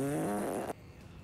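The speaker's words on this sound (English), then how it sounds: "Oh, he's making fart noise." Comedic fart noises in the TV series Peacemaker, season 1 episode 8. A loud, buzzy, wobbling blast lasts under a second and cuts off abruptly into quiet.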